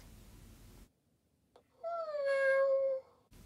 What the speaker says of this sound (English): I found that Marmalade keeps making this mournful meow.